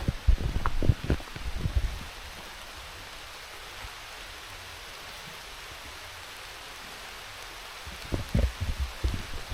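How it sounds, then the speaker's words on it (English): Rain falling in an abandoned hillside cemetery, a soft steady wash of drops with louder rustling, tapping bursts at the start and again near the end. "It started raining as well."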